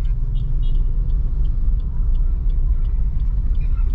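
A Suzuki Ertiga's engine hums low and steady from inside the car after a shift into first gear, a constant road rumble with faint ticking above it and no voices.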